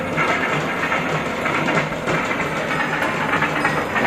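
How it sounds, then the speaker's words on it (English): A train moves along rail tracks with a loud, steady rumble and a broad roar from close by that holds even and unbroken throughout. "Now we have a train which is moving to and fro,"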